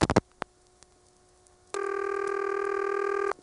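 An ITT Pentaconta crossbar telephone exchange in Asheboro, North Carolina, in 1977: a quick burst of mechanical clicks, a few isolated ticks, then a steady loud line tone that holds to the end.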